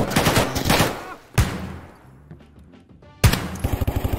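MDR assault rifle fire in a firefight in the video game Escape from Tarkov, with two loud bursts of rapid shots separated by a quieter stretch holding fainter, distant reports.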